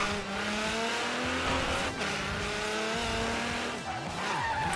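A car drifts through city streets in the racing video game Forza Horizon 3, with a sustained engine drone, shifting revs and drawn-out tire squeal as it slides, loud and close.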